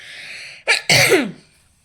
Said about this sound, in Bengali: কথা বলতে গেলেই কাশি কথাটা বলতে গেলেই কাশি